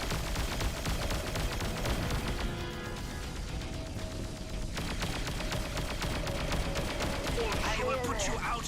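Enemy ships firing on the player in the space combat game Darkstar One make dense, continuous rattling gunfire and blasts that run under a constant wash of engine noise and music.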